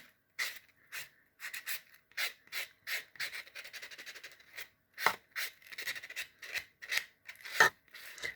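Nail buffer block rubbing across fingernails while prepping nails for hybrid polish, a run of short rasping strokes in quick rhythm, close and clear, with no talking.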